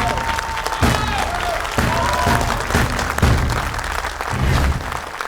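An audience claps together in bursts of applause, the loudness surging and dipping as new waves of clapping begin, with a few thuds and a faint voice mixed in.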